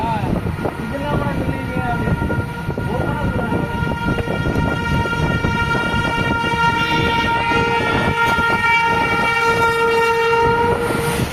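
A train rolls past along a road in Ayodhya, its loud sustained rumble and wheel clatter steady throughout, with a horn tone holding through the second half and a voice briefly audible beneath.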